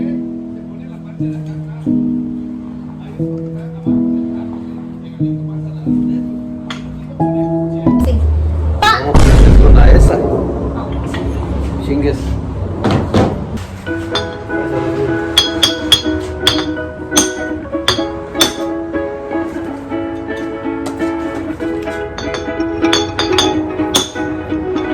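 Metal wheel studs being hammered out of a Toyota Supra axle hub in a home garage: a loud heavy thud followed by a run of sharp ringing metallic strikes, close and irregular, over a background of music or talk.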